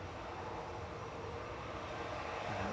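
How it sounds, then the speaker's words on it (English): Steady broadband engine roar of a Ryanair airliner taxiing at Manchester Airport, heard continuously from a distance with a slow, even drone and no talk. "Ryanair taxiing over to Faro"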